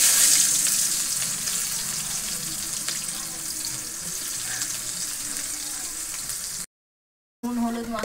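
Sliced onions frying in hot oil for birista, a soft steady sizzle with faint stirring and scraping, briefly cutting out near the end before resuming.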